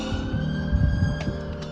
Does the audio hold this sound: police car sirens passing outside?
yes